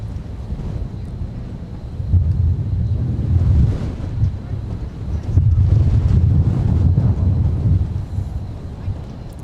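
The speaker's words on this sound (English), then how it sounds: "I know it's a little bit gusty out there" Gusty wind buffets a microphone outdoors at MSP airport, a loud low rumbling roar that swells and eases in surges throughout.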